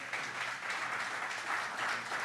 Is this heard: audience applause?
yes